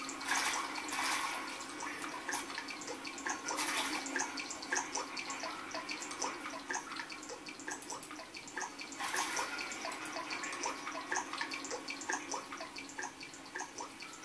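Water dripping and trickling in the horror video game Amnesia, a quiet continuous watery patter of scattered drips with a few louder splashes, no talking over it.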